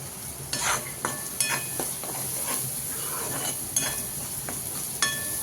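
Masala for an egg curry fries in oil in a pan, a steady close sizzle and hiss broken by repeated scraping strokes and light clinks of a spoon stirring against the metal.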